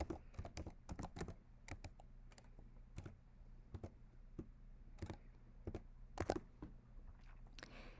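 Computer keyboard typing while filling in a setup field for a Raspberry Pi 4 Pi-Star hotspot: close, quiet, irregular bursts of key clicks spread across the whole stretch, with no talking.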